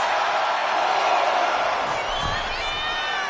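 Video game wrestling crowd from WWE 2K25 SmackDown, a dense continuous roar of cheering and whooping that stays loud throughout, with a brief rising whistle-like tone near the end.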